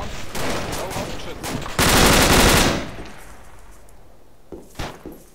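A rapid burst of gunfire crackles, dense and loud for about a second, amid background noise, followed by a couple of isolated sharp shots.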